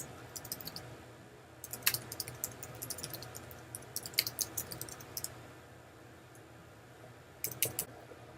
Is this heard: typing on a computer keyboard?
yes